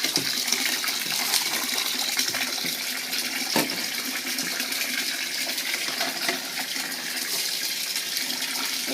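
Water running and splashing in a bath while a baby's hair is washed and a bucket is filled, a steady continuous gush close by with no talk.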